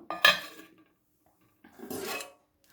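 Oats ragi dough being mixed with tomato chutney on a plate by hand, giving two short bursts of scraping and clinking against the plate separated by a pause, close and fairly soft, with no talking.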